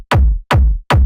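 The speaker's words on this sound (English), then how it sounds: "for this case, I'm gonna use my seismic techno kicks." Three heavy, booming techno kick drum hits in an even rhythm, each a sharp punchy attack decaying into a deep low thud.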